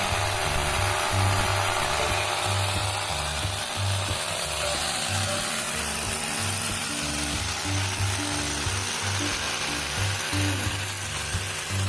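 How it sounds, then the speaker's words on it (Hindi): A power drill with a 16 mm bit boring holes for a solar panel mounting structure, a loud, steady motor drone that runs unbroken and close with no speech. "तो इसमें हम 16 mm के बीट से होल कर रहे हैं"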